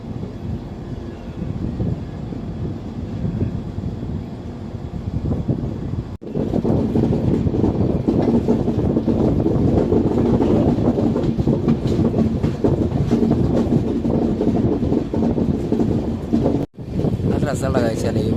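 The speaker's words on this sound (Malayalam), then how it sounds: "നല്ല രസമുള്ള കാഴ്ചയാണ് ഈ ട്രെയിൻ വളഞ്ഞു പോകുന്നതാണ്" Train rumbling slowly around a curve at about 15 km/h on a trip from Kollam to Bangalore: a steady, loud broadband roar with wind buffeting the microphone and faint clatter, briefly cut twice, with a voice talking over it.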